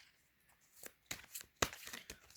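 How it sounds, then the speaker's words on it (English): Large oracle cards being shuffled by hand, a few brisk riffling and slapping bursts in a quiet room, close and fairly soft. "So these cards are a bit bigger, so shuffling sometimes is a bit of an event."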